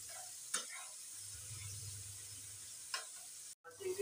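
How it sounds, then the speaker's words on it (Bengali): Small shrimp shallow-frying in oil in a pan, a steady low sizzle with brief stirring scrapes, close and alone without talk. "চিংড়ি মাছ তো শক্ত হয়ে যাবে, অল্প ফ্রাই করে দেবো"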